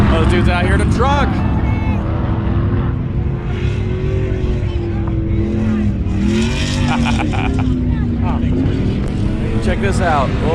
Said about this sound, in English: You're just sitting on the side as all these cars just go blasting by.